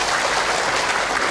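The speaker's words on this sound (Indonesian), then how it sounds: "Tepuk tangan dong buat yang bertanya teteh." Loud, dense applause from a congregation at an Islamic religious talk, a continuous wash of many hands clapping close up and filling the whole brief moment.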